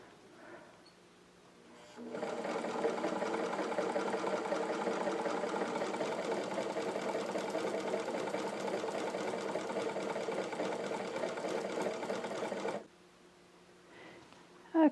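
Vintage Singer 66 sewing machine winding a modern Class 66 bobbin, a steady whirring hum that starts abruptly, runs evenly for about ten seconds close by, then stops.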